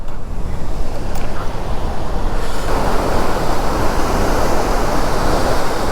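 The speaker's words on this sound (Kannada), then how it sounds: "ನೋಡ್ಬೋದಿಲ್ಲಿ ಯಾವ ರೇಂಜಿಗೆ ನೀರು ಹರಿತಾ ಇದೆ ಅಂತ." Water pours over a dam spillway at Kodibayi Katte near the KRS dam, a loud, steady roar of rushing water with wind buffeting the microphone close by, no voices.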